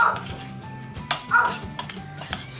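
A spoon stirs bulgur into hot cooked lentils in a pot for Turkish lentil köfte, giving a series of close, uneven scraping clatters against the pot with quiet pauses between.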